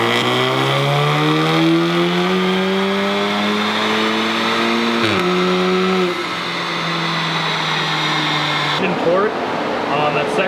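A tuned Audi S3 Stage 2+ engine revs hard on a dyno, a loud, sustained rising drone that climbs steadily through a pull, dips briefly, then winds on before cutting off near the end.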